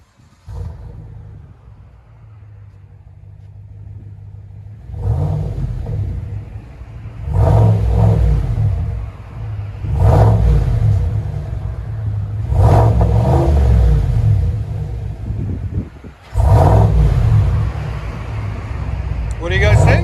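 A 2020 GMC Sierra Denali pickup with a 6.2L V8 and dual Borla ATAK exhaust, the stock muffler removed, revs in four or five loud, throaty bursts over a steady idle rumble, close by, with no talk during the revs.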